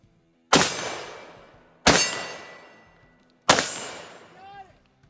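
Three sharp, loud Glock pistol shots fitted with an RMR sight, evenly spaced about a second and a half apart, each ringing off in a short decaying echo on a shooting range.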